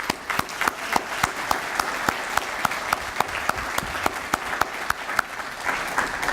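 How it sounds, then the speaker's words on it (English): An audience at a chamber of commerce annual dinner and award ceremony claps steadily, with sharp individual claps standing out over a moderate, even patter that continues throughout. "A round of applause."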